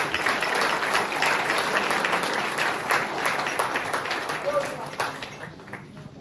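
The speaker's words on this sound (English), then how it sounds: "let us give all of us a very big round of applause to welcome ourselves" An audience at a college of education centenary launch breaks into a big round of applause, a full, sustained clatter of many hands that holds steady and thins slightly toward the end.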